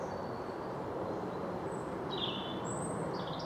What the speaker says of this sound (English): Plenty of bird song, as you can hear in the background. That robin pairing up.